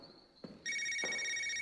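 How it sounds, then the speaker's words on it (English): A telephone rings in the detective game Knee Deep, a steady electronic trill with several sharp tones that starts partway through and continues loudly to the end, after a couple of soft knocks. "Caller ID Lenny Spruce."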